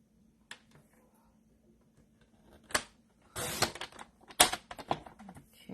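A paper trimmer slices through cardstock while making a blocked-layout greeting card: a few short, sharp scraping swipes close by, alone and separated by quiet pauses.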